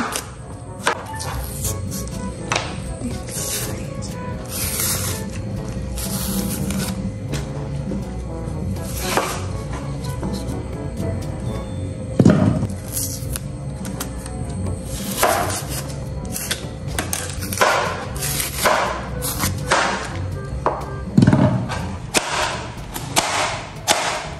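Sweet potato and tugi being sliced by hand: steady, close, crisp cuts and knocks against a board that keep coming through the whole stretch over a constant background hum.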